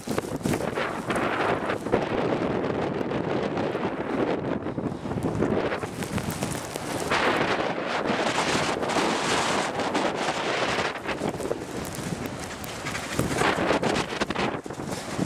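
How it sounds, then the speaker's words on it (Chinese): Strong wind roars and buffets steadily across a snowy road in a low-visibility blizzard, a loud, continuous rush with gusts and no speech. "这个风太大了"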